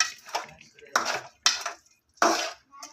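Cooked rice is stirred in a pot while making village-style tamarind rice, giving four or five distinct scraping, clattering strokes of a utensil against the pot, close and fairly loud with pauses between.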